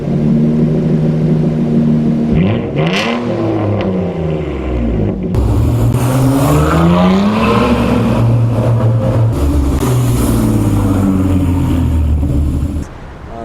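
A loud turbocharged Nissan Altima Coupe 3.5 SE engine with the muffler removed rumbles and revs repeatedly, rising and falling in pitch, raw and aggressive, with no one speaking.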